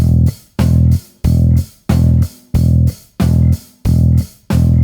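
A bass guitar plays a steady, driving four-to-the-bar riff over a drum beat, each note punching in loud and evenly spaced with short gaps between.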